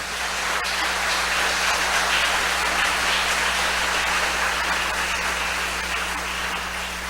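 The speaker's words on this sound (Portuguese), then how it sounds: "Você pode aplaudir o Senhor por isso" A church congregation applauds, a dense, even wash of many hands clapping continuously, sounding like rain, with a low steady hum underneath.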